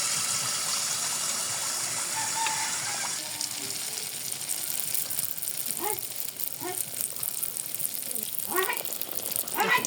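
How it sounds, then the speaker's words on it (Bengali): Palm jaggery pitha made with semolina and flour fry in hot oil, giving a continuous close hiss and bubbling sizzle with brief faint voice sounds over it. "তেল গরম হতে দিয়েছি গরম হয়ে গেছে তেল আমার আমি এখন পিঠে দিয়ে দেবো"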